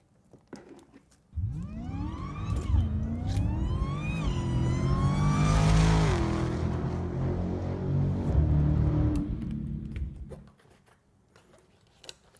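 A car engine revs up with a steadily rising pitch, then holds a loud, sustained roar for several seconds before dropping away, heard in an auto tint studio.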